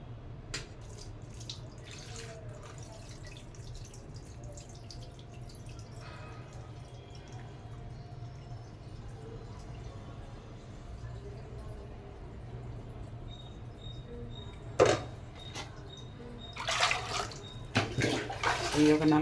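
Rava (semolina) is washed in water for idli, with steady trickling and sloshing water, occasional drips and a few louder splashes near the end, and faint talk in the background.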